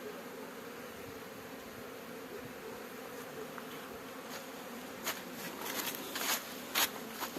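Honey bees on an orientation flight around their hives make a continuous buzzing hum, with several louder bees passing close toward the end.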